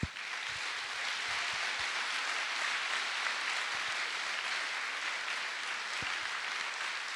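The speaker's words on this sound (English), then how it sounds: "Can we give another round of applause" Steady audience applause at a public conversation event fills the whole stretch, dense and even, with a few sharper claps standing out near the start and toward the end.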